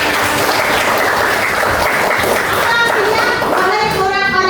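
Children in a classroom clap together in a steady, dense patter, with kids' voices and chatter mixed in throughout.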